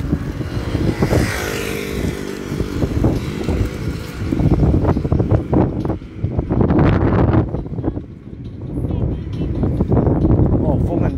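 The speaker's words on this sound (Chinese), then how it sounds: "风很大呢" Strong wind buffets the microphone on an outdoor walk, with loud gusty rumbling and flapping under people chatting nearby.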